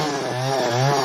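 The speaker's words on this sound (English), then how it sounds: "amuses him with his chaotic way of testing the chainsaw" A chainsaw is revved and tested in a 1986 horror film scene, its engine droning steadily with rising and falling pitch, loud and close, no talking over it.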